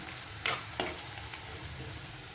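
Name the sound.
stirring and frying onion and ground masala paste in pan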